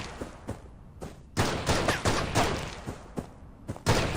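Gunfire in the mobile battle royale game PUBG Mobile: a rapid string of sharp game gunshots crackles in bursts, some fast and clustered, with a few quieter pops between them and no speech on top.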